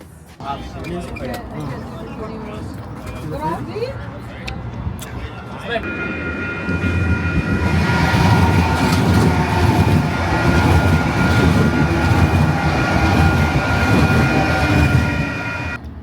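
A train passing at the Calgary Stampede, starting with a softer rumble and then swelling into a loud, sustained roar with high metallic squealing tones, while people talk nearby over it.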